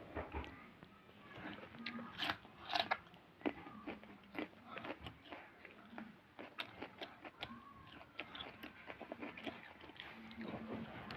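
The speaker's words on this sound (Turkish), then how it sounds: "Havuç yiyeceğim." Close, crisp crunching as a raw carrot is bitten, followed by repeated wet chewing in an irregular rhythm, quiet and near.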